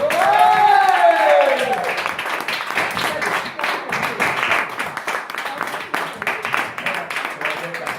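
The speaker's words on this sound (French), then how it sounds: "et pour remercier Thomas Touchard, je vous demande un tonnerre d'applaudissements avec sa bouteille de martini gold." Audience applause at a French festival awards ceremony, a dense wash of clapping that follows a brief musical flourish at the start and carries on steadily to the end.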